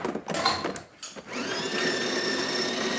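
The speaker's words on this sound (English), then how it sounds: "we replaced the grinder" A replacement grinder in a DeLonghi Specialista coffee machine grinding beans on its finest setting, a steady close whirring motor hum that starts after about a second of rattling and runs to the end.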